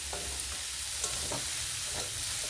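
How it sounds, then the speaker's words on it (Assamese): Masoor dal lentils frying in a pan over a low flame with cumin powder, salt and turmeric, a continuous close sizzle with soft scraping stirs scattered throughout and no voices. "মই দালিখিনি 2 পৰা 3 মিনিট টাইম ফ্ৰাই কৰি ল'ম"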